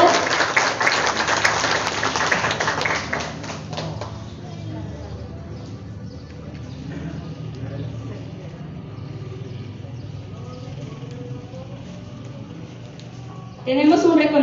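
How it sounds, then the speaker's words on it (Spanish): A school recognition ceremony opens with a few seconds of loud crowd clapping that then drops away, leaving a quieter room with faint murmuring, before another short burst of clapping near the end. "Fuerte los aplausos, por favor."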